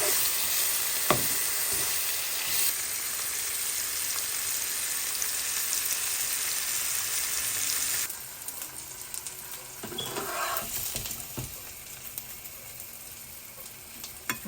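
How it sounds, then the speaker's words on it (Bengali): Fish fries in oil at medium heat with a loud, continuous crackling sizzle close by. It softens partway through, with a few scattered pops and no voices. "মাছটাকে আমি একদম কড়াভাবেও ভাজবো না, আবার একদম অল্প ভাজবো না, মিডিয়ামভাবে ভাজবো আর কি।"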